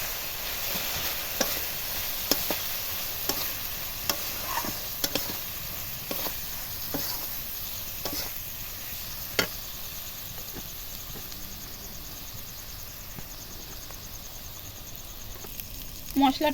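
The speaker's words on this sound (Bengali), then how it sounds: "লঙ্কা গুঁড়ো দিয়ে আবারও কষিয়ে নেব মশলাটা" Spice masala with turmeric and chili powder stir-fried in a pan for chicken, soft sizzling under repeated rhythmic spatula scrapes and taps, steady through the whole stretch.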